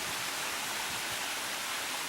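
Steady, soft broadband rush of a waterfall and running water from the top of the falls beside a small pool under big bluffs, faint and even with no voices.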